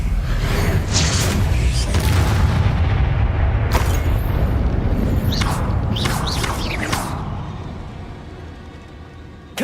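Blasting-spell explosions in Hogwarts Legacy, with heavy rumbling booms and several sharp bursts that fade into a lingering low roar, loud and close with no talk.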